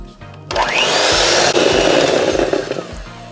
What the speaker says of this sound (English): so now I have whipping cream. It's cold and it's 1/2 cup. So I'm going to beat this up on high